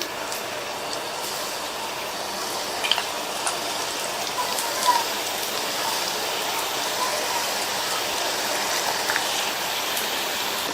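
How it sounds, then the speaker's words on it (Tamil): Dough-coated snack balls sizzle in hot oil with a steady, hissing crackle throughout, moderately loud and close, with occasional small pops. "நம்ம ரெடி பண்ணி வச்ச பால்ஸை ஒவ்வொன்னா எண்ணெயில மெதுவா சேர்த்துடலாம்"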